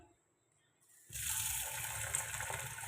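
Broken wheat dalia mixed with mung and masoor dal is washed under running water, which starts abruptly after a near-silent second and gushes steadily and close into the vessel.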